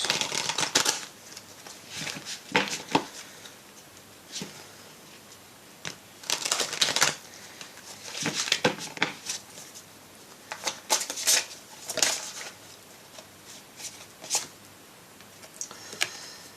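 Tarot cards are shuffled close by in repeated quick flurries of riffling and flicking, with quieter pauses between bursts.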